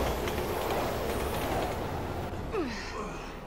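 A train rumbles steadily past in the video game Resident Evil 6, a broad low roar with faint rhythmic clatter, fading slightly toward the end.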